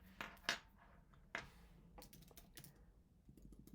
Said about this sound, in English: I can't type with my nails on this keyboard.